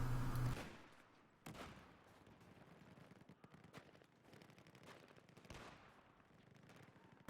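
Battlefield 4 gunfire in a 32 versus 32 Locker match, with a loud burst at the start followed by scattered distant shots and bursts of gunfire over several seconds.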